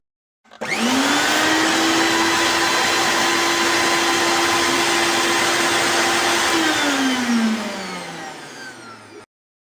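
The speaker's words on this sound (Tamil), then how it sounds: "இப்போ நம்ம மிக்ஸி ஆன் பண்ணிக்கலாமா?" A mixer grinder blending a milkshake whirs loudly at a steady high pitch for several seconds, then winds down as it is switched off.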